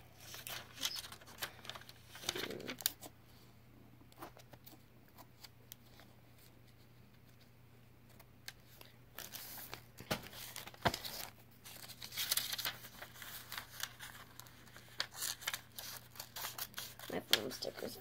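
Scissors snip and crunch through material for homemade DIY Christmas ornaments, in irregular bursts of close cuts with rustling and crinkling between them. A voice talks quietly now and then.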